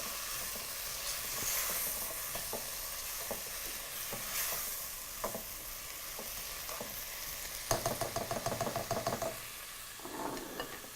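Goat meat and other ingredients fry at high heat in a pan, giving a steady close sizzle and hiss with bursts of stirring and scraping, and louder clattering toward the end.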